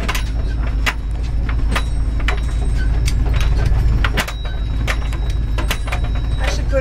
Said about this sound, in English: I believe that spare tire is making enough noise